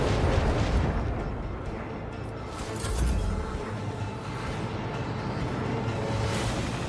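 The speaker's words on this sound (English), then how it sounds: "Unleash a barrage of destruction." An artillery barrage in Warhammer 40k: Rogue Trader rolls on as a dense, continuous wall of booming detonations and rumble, with slight swells in loudness but no pauses and no talk.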